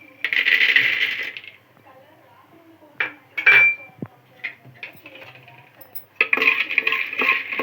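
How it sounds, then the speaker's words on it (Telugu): Raw peanuts poured into a hot, dry pan for roasting, metallic rattling and clinking in several bursts separated by pauses, close and fairly loud, with voices talking nearby. "ఇప్పుడైతే పల్లీలు వేసుకుందామమ్మా వేడే వేడైంది"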